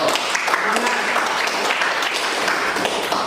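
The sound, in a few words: classroom applause for a classmate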